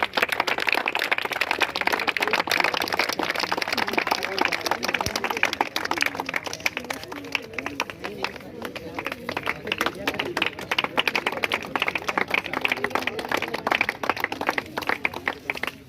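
Audience applause at the opening of a cricket academy in Lucknow, a dense, steady clatter of many hands clapping throughout, fairly close and loud, with voices mixed in.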